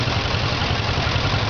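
A rare antique 320 tractor at a vintage machinery show runs nearby with a steady, loud, low rumbling idle and no pauses.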